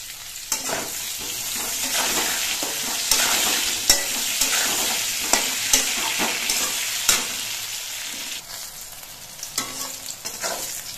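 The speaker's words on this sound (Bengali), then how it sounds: "বেগুনগুলো ভাজার সময় আমি অল্প করে নুন দিচ্ছি।" Eggplant slices sizzle in oil while a spatula scrapes and taps the pan at irregular intervals, a loud crackle rising and falling over eleven seconds.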